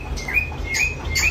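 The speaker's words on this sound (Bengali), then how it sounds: "এখানে লুটিনো পাল এক জোড়া কোকাটেল রয়েছে" A pair of lutino pied cockatiels gives a few short, bright chirps, roughly three calls spaced through a brief moment, heard fairly close over a low background hum.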